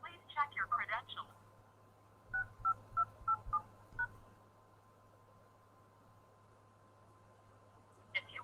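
Telephone keypad tones dialing a conference call access code: a quick cluster of tones, then five short, evenly spaced beeps over a steady low hum, followed by near silence and a final tone.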